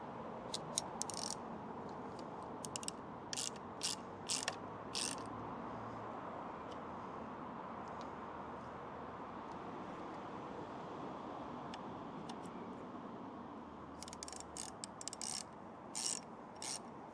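Barkbuster handguard fittings being tightened on a Ducati Desert X Rally motorcycle, heard as close bursts of sharp ratcheting clicks at the start and end, with a quieter stretch between and no speech.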